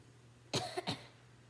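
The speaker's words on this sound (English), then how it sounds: "sorry if I'm coughing a lot" A short burst of two or three close coughs, fairly quiet, over a low steady hum, from a person who is sick, while playing the hunting game TheHunter: Call of the Wild.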